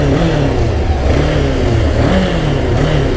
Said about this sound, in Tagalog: Oh, lakas ng RPM niya guys.